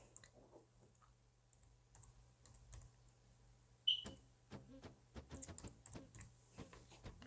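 Light clicking keystrokes on a PC computer keyboard, sparse at first and then coming in quicker irregular bursts close to the microphone, with no talking.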